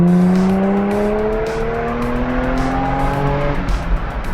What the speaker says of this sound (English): Honestly, the sound of this car is so good.